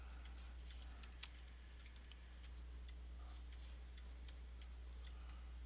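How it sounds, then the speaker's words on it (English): Computer keyboard being typed on, faint scattered clicking keystrokes in an irregular rhythm over a steady low electrical hum. "If I can type."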